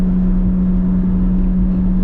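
Inside a Chevrolet Corvette C8 Z06 on a back road, the engine holds a dense, loud, low droning rumble with a steady tone, little sign of a rising rev, no voices.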